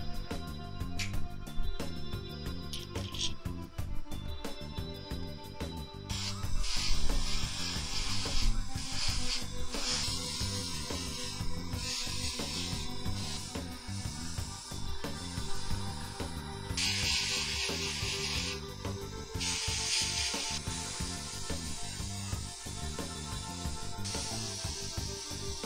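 Bursts of spray paint hiss onto model tank armor plates and wheels mounted on stock cards, several separate sprays of a few seconds each over steady background music, close and moderately loud.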